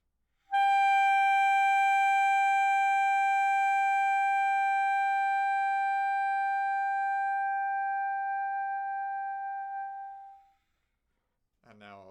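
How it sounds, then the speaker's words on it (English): A clarinet sustains one long note that begins at full strength and gradually fades away over roughly ten seconds, followed by a short pause and the start of a voice. "And now I'll start loud and get soft."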